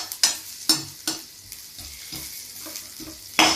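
Onions fry and sizzle steadily in a hot pan, with several sharp scraping stirs of a spoon at irregular intervals, close and fairly quiet.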